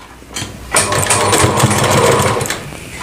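A sewing machine stitches a strip onto lehenga fabric, its needle running in a fast, steady mechanical chatter close up for a few seconds after a brief start.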